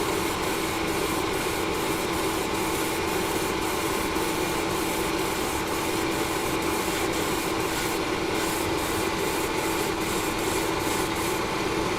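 Continuous steady hiss of grey Vallejo surface primer sprayed through an airbrush, loud and unbroken for the whole stretch with faint regular ticks above it and no talking.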